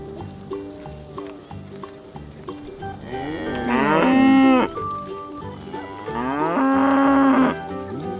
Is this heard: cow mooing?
yes